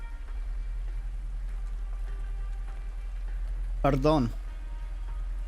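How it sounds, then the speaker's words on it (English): Steady rain falling in the Arknights video game, a constant soft hiss throughout with a short spoken word briefly over it. "The rain doesn't seem like it'll let up anytime soon."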